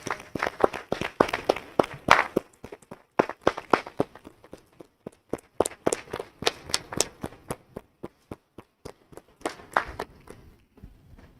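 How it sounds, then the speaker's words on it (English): A small group at an executive governing board meeting gives a round of applause: sparse, distinct handclaps in irregular bursts, fairly close and moderately quiet, with brief pauses before the clapping trails off. "So let's just please give her a round of applause in her honor."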